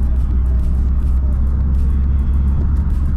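A Subaru WRX engine held at a steady 2,000 RPM, a loud continuous low rumble heard from inside the car, with a faint voice in the background.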